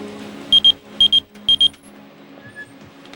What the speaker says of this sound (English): Luckily, the beeper worked.